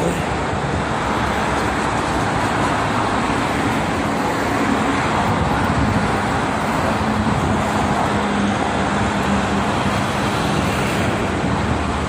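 Trucks pass on the Jakarta-Cikampek toll road in the morning, a loud, continuous roar of heavy traffic with engine drone and tire noise. Wind adds to the dense, unbroken sound, with no talk.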